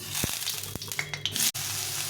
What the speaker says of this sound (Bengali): লবণ একটু হলুদ দিয়ে বেগুনটাকে ভেজে নেব।